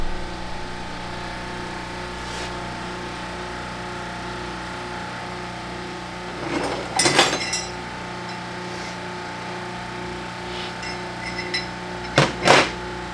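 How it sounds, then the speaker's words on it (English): A shop press slowly forces apart a destroyed G56 manual transmission, giving a steady low mechanical hum, with two sharp metallic clinks near the middle and the end. "Slowest press in the world."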